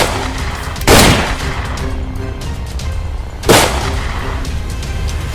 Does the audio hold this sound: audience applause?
no